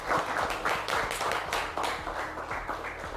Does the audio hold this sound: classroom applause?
yes